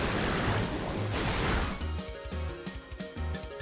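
A broad rushing splash of water from the Muddy Water attack in the Pokémon Violet battle, loud for nearly two seconds, then fading into rhythmic, tonal battle music with sharp beats.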